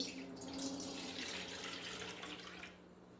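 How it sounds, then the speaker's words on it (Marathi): Water pours steadily into a bowl for a few seconds, a soft continuous splashing that fades near the end, quiet and close. "इथे मी सुरुवातीला दोन वाट्या पाणी घेत आहे"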